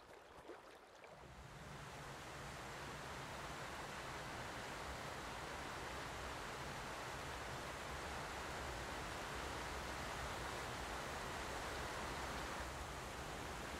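Roaring rush of the Yellowstone River just upstream of its falls in Yellowstone National Park, a dense continuous wash of water noise that swells in during the first seconds and then holds steady with no voices.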